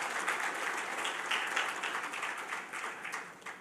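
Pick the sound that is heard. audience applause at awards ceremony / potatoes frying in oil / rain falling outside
audience applause at awards ceremony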